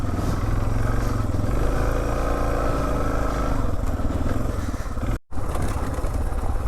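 An off-road motorcycle rolls slowly along a dry stream bed in the Golan Heights, its engine a close, steady low chugging rumble with slight pitch shifts, alone without speech, briefly cutting out near the end.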